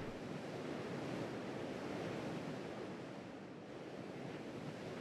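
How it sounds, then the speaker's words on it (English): Ocean waves in the video game Salt roar as a loud, continuous broadband surf wash with slight swells and no talking. "I think these waves are bigger than my boat."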